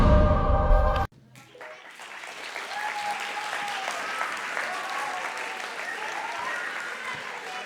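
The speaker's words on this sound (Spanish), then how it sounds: "Gracias por los aplausos," A hall audience bursts into sustained applause after a talk on Spanish heroes. It follows an abrupt cut from louder sound, then gives steady, dense clapping that holds at an even level.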